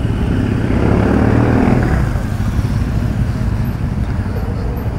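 A classic Triumph Bonneville motorcycle engine runs close by with a steady low rumble that fills the whole clip and eases slightly after the first two seconds, with no voices over it.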